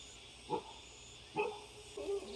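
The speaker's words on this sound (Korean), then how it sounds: "어디 멀리서 강아지 소리가 나는구 그치?" A dog barks faintly in the distance outdoors in Heukseok-dong, three short barks spaced about a second apart over a steady low ambient hiss.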